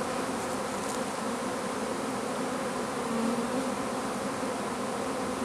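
A honey bee swarm drones in a dense, continuous buzz, many bees humming together close by at a steady level with no voices.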